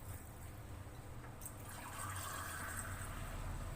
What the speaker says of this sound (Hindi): 2 गिलास हम डालेंगे पानी